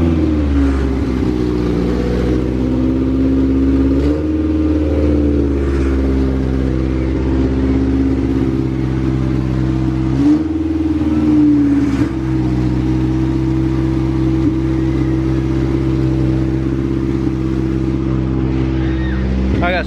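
A quad ATV engine runs loudly and steadily without its exhaust fitted, with a couple of brief revs rising and dipping, close by throughout.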